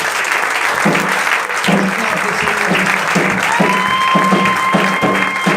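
A church congregation claps loudly and continuously, a dense wash of applause with steady rhythmic beats and a sustained musical tone underneath, close and full throughout.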